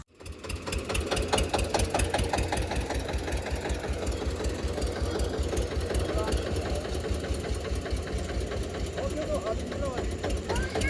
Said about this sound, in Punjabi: ਤੇ ਉਹ ਖੜਾਤਾ ਟਰੈਕਟਰ ਉਰੇ ਲਿਆਉਣਗੇ